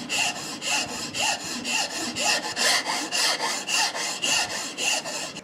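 Hand sanding of cured Bondo filler on a wooden rifle pattern stock for a .375 H&H Magnum build, a close, rhythmic back-and-forth rasp repeating about every third of a second.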